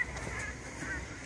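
A couple of faint honking duck calls sound in quick succession over a soft background hum.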